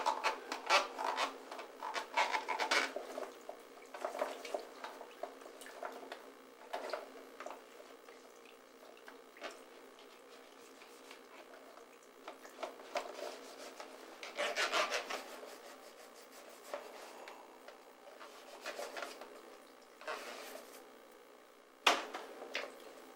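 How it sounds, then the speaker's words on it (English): A big brush scrubs the inside of a MOLLE II hydration carrier bladder with irregular, close, rasping strokes, some bursts harder than others, alongside faint watery sounds. "use your big brush, go and clean the inside of it and just scrub all corners of it"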